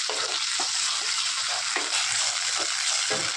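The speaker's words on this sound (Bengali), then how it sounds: "দিয়ে একটু ভালো করে নাড়াচাড়া করে নিচ্ছি" Chilli chicken masala with tomato ketchup sizzles steadily in a pan, with a spoon scraping through it in regular strokes roughly every half second, close and fairly loud with no talk.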